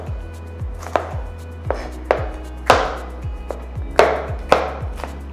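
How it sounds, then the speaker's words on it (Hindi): Capsicum is chopped into diamond-shaped pieces on a cutting board, giving about a dozen crisp knife knocks in a loose, uneven rhythm, close and clear with no talking. "कैप्सिकम को भी मैं क्यूब्स में या क्रॉस में डायमंड शेप में कट कर देता हूँ।"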